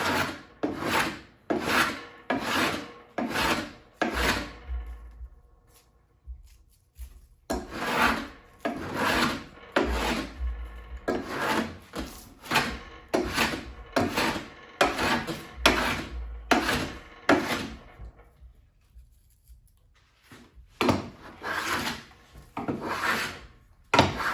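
A walnut axe handle being shaved down with a rasp or file, giving steady rhythmic scraping strokes in close succession, with a couple of short pauses between bursts and no talking.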